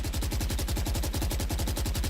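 Rapid automatic gunfire in Valorant while the shooter walks, a continuous rhythmic stream of evenly spaced shots, loud and with no talk.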